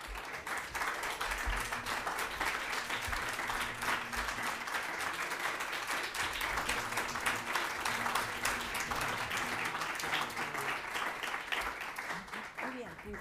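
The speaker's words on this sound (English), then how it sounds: "Applause for Sharon Stone." Sustained applause from a large crowd at a Zurich Film Festival press conference fills the whole stretch, a dense steady roar of clapping at moderate volume.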